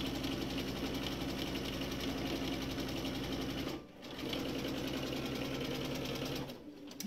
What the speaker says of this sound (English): it's just a matter of just easing it through as you sew